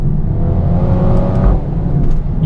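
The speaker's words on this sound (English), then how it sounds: "You get a little thump on the gear change. It's like a chomping noise, like the A45 used to do it as well." A Mercedes A35 AMG accelerates hard, its engine note rising steadily and loudly from inside the car, with a brief thump at the gear change partway through.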